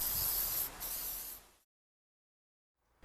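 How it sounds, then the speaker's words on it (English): Black car spray paint hisses from an aerosol can held upside down, a steady loud spray that dips briefly, then cuts off, followed by silence and a faint short restart at the end. "And finally it's painted with black car spray."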